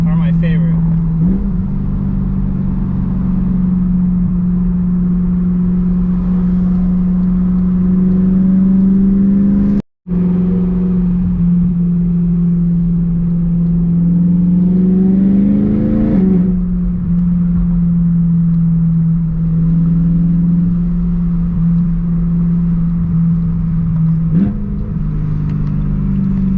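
A BMW M3 with a DCT gearbox, an e92 or F80 with a loud exhaust, idling with a steady drone while blips of throttle on downshifts push the revs up in several short swells; the engine noise continues throughout, with a voice speaking over it.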